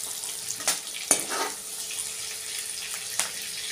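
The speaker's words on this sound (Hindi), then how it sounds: "मछली भी फ्राई हो गया है दोस्तों" Fish fries in hot oil for a village-style fish curry, a soft steady sizzle with a few sharper clinks and splashes as pieces are moved around the pan.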